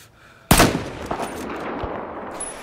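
A single loud sniper rifle shot in the video game Battlefield 4 cracks out abruptly, followed by a lingering echoing tail and a faint high tone near the end.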